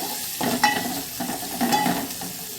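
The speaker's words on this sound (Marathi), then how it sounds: "कांदा टाकूया ते व्यवस्थित परतून घेऊया आपण" Chopped onion with curry leaves sautéed in a pan for a spiced field-bean curry, the spatula stirring in steady scraping strokes over a soft continuous sizzle, close and moderately loud.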